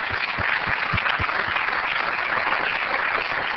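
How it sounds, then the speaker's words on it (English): At a city council meeting, the audience applauds league volunteers with steady, dense clapping at moderate loudness. A few stronger claps stand out near the start, and the sound sounds slightly muffled and narrow. "Actually, give them a round of applause,"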